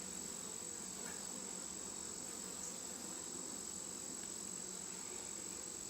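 Honeybees buzzing steadily around an opened hive box during an inspection, a constant close droning hum with a persistent high whine, no talking.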